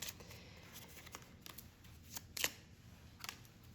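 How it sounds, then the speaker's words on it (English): Tarot cards are shuffled by hand close to the microphone: quiet, intermittent papery riffles and flicks in a few short bursts, with one crisper snap partway through, in an otherwise hushed room. "I just like to shuffle on camera so that you can see the process."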